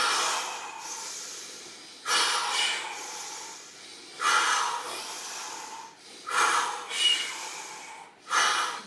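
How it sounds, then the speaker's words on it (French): Forceful rhythmic breaths during a vinyasa flow yoga session in Iceman style, five loud hissing exhalations and inhalations repeating about every two seconds, close and clear with no talking. "on va faire 5 respirations Iceman"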